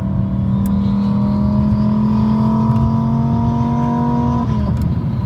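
A 1,000-horsepower car engine idles nearby with a loud, steady droning hum that creeps up slightly in pitch before dropping near the end.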